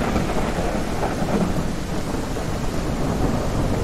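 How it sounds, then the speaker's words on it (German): A heavy thunderstorm in the survival game No One Survived, with dense steady rain and deep rolling thunder filling the whole stretch, loud and close, with nobody speaking. "Also das Unwetter, muss ich ja ganz ehrlich sagen, hört sich grausig an"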